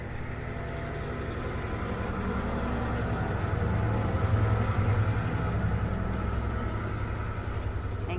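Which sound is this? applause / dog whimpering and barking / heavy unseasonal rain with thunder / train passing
train passing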